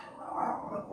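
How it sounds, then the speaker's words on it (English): A pet dog barks indoors at home, a single close, fairly loud bark lasting about a second and standing alone without talk. "Sorry, that's my dog."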